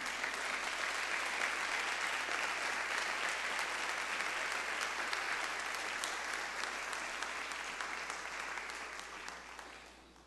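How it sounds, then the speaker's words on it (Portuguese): A church congregation claps in praise during a sermon, sustained dense applause from many hands that stays even and then tapers off near the end. "Dê para Jesus um aplauso bem forte"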